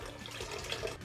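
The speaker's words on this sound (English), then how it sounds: "this is pure filtered water. Okay, I am using the measurement of half a liter, that's 500 ml. I pour into the blender" Filtered water is poured into a blender in a short, soft, continuous splashing trickle, close and quiet, with no talk.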